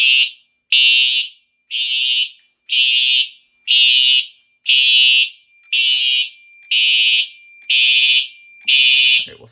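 A TrueAlert fire alarm horn on a home test system sounds ten loud, evenly spaced blasts, each about half a second long, close up with no talk.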